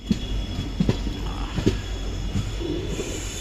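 A train pulls out of Talguppa station with a low engine rumble and a few sharp clanks and knocks from the couplings as it starts moving, fairly faint and steady.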